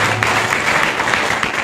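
A church congregation applauds during a sermon, a steady wash of many hands clapping together in a reverberant hall, sustained and fairly loud for its brief length.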